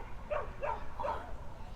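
A dog at an outdoor dog park barks three times in an evenly spaced series of short yips, moderately close, over soft background ambience.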